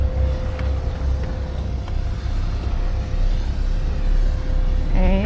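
A motor boat's engine drones in a loud, steady low rumble while underway, mixed with wind buffeting and a constant high whine, and a brief squeaky sound rising near the end.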